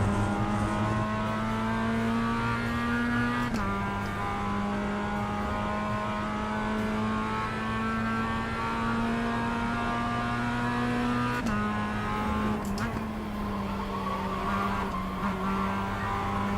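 A race car in the iRacing sim holds a loud, steady engine drone at high revs with abrupt gear-shift breaks, tyres whining and scrubbing underneath, with no voices.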